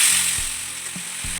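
Ground turmeric, cumin, coriander and Kashmiri chilli sizzle in a pan with a splash of water, a steady close hiss of frying lasting the whole moment, with a low mechanical hum underneath.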